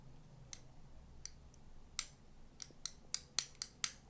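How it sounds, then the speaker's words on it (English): Sharp plastic clicks from the switch on a fidget cube being flicked up and down, about ten crisp, close snaps at an irregular pace, growing quicker toward the end, with no talking. "it's very easy to click up and down and has that satisfying feeling when you open it and close it"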